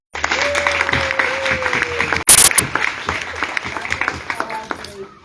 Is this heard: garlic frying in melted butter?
no